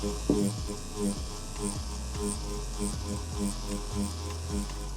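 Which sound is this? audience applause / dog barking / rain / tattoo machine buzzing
tattoo machine buzzing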